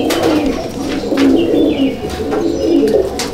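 Madrasi pigeons coo steadily inside a loft, soft overlapping low calls forming a continuous murmur with a few faint chirps above.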